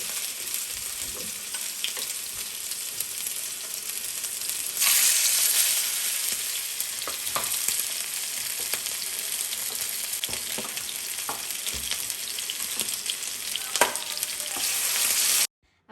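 Chicken sizzles loudly in a pan, a dense continuous frying hiss broken by repeated scrapes and knocks of a spoon stirring, close up and alone without speech, cutting off abruptly at the end.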